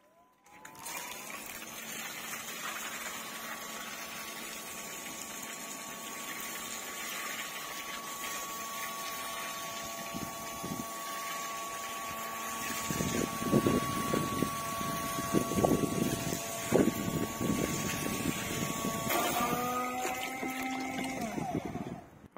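A Parkside PRPA 20-Li A1 cordless submersible pump running in a 12-liter bucket of water, a steady whining motor hum with gurgling, splashing water that grows busier midway, then shifts pitch near the end.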